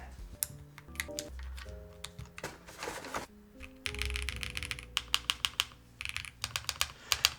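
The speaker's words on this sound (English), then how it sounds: "Put some keycaps on." Keycaps are pressed onto a QK65 Mk3 mechanical keyboard at close range, giving irregular clicks, clacks and plastic snaps with brief rattling and handling noise in between, ending in a quick run of sharp taps.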